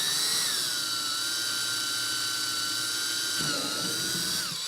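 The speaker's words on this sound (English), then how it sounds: "And when drilling in plastic, go slow." A power drill slowly boring a pilot hole in plastic trim while installing a trunk light on a 2021-or-newer Honda, a steady close whine held at even pitch for several seconds, dipping briefly near the end as it stops.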